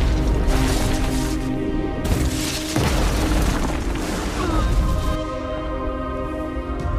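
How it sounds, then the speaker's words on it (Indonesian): A big explosion in a Dynasty Warriors battle film, heavy booming blasts and crashing debris that roll on over a sustained dramatic score. "ledakan besar terjadi, Lu Bu masih bisa selamat dari serangan itu"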